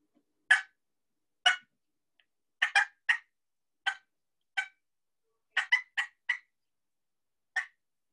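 A handheld turkey call imitates an excited hen turkey, giving a string of short, sharp cutting clucks, some single and some in quick bunches, loud and close with silence between.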